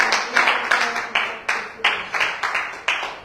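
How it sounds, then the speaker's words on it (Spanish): A church congregation claps in a loose, rhythmic pattern of sharp, close hand claps, about three per second, with no one speaking over it. "Aplauda al Cordero."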